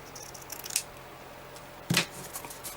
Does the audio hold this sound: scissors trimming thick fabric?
yes